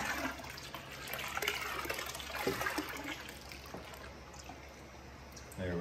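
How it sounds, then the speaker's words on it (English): Yeast is poured into a tub of wort and swished around, giving a soft, continuous watery splashing and trickling that is fairly quiet and heard alone. "we'll get Colin to pour it in"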